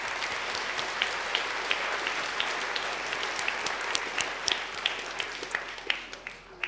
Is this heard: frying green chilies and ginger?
no